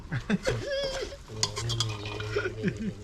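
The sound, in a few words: stir-frying quail in a pan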